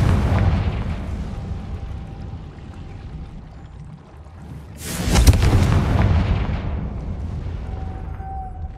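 A Confringo fire spell bursts in the Hogwarts Legacy game, a sudden loud blast in the middle of ongoing ambient rumble, with a dull roar trailing off after the impact.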